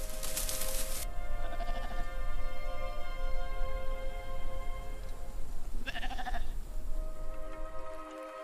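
Sheep bleat repeatedly over a steady outdoor background in Iceland, several calls overlapping at moderate distance, with one louder bleat near the start.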